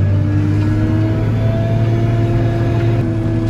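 A Toyota Camry 3.5 driving along a snowy road, a loud, steady engine and tyre drone with a low rumble that holds even throughout, with no voices.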